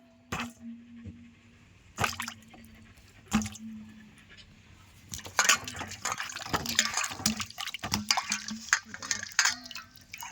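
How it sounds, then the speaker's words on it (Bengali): A raw mango being washed by hand in a bowl of water: a few sharp knocks and drips at first, then louder, continuous sloshing and splashing toward the end. "আমটা এই জলের মধ্যে দিয়ে আমি একটু সুন্দর করে ধুয়ে নেব"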